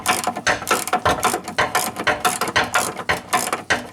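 A hand ratchet loosening a brake line fitting, sounding as a fast series of close, loud mechanical clicks in rhythmic bursts, with no talking over it.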